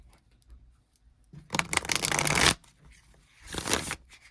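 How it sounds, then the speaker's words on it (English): Tarot cards are shuffled close by in two quick riffling bursts, a longer one then a shorter one, with quiet between. "I'm going to shuffle these one more time for you, Leo."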